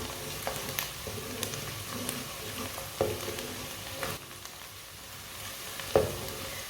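Onions fry in a pan until half brown, a soft steady sizzle close by, with occasional stirring knocks and scrapes of a spoon against the pan; no one speaks.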